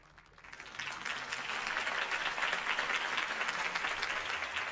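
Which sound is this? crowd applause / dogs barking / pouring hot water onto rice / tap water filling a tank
crowd applause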